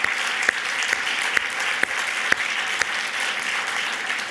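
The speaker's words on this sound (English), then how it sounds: "I do want to give our panel a big round of applause for helping us close this out" A conference audience applauds a panel at a carbon pricing event, a steady wash of clapping with a few sharper, louder individual claps standing out at regular intervals.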